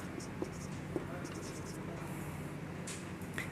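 Pen scratching on paper during a class 10 maths lesson, soft intermittent strokes and scribbles under a quiet spoken voice.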